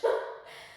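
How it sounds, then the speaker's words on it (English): A single short dog bark, muffled and somewhat distant, fading quickly into quiet. "you can hear my dog in the background"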